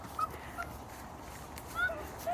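A child on a nature trail imitates chick noises with a few short, thin, high peeps scattered over quiet outdoor background.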